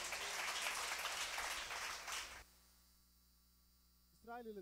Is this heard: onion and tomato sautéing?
no